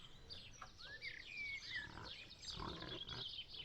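A pig squeals in several high, rising shrieks over faint background noise in a farm setting.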